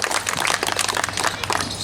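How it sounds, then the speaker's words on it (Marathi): An audience at a community gathering in Dhantoli Garden, Nagpur, claps together, a dense and steady outdoor applause lasting a couple of seconds. "तालियां बजाए उसके लिए"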